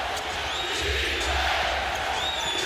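A basketball arena crowd stands and roars in a sustained, loud chant of defense during a Lakers game, with squeaks and bounces from the court cutting through the dense wall of voices.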